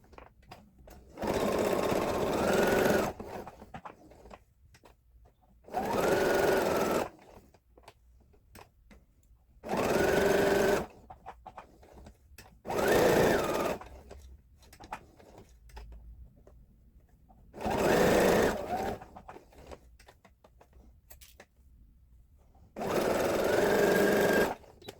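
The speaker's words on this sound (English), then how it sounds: "We're going to turn this over and then sew 1/4 of an inch all the way around." Sewing machine stitching fabric hexagon coasters with a quarter-inch seam around the edge, heard as six loud bursts of steady whirring separated by short pauses, with no voices.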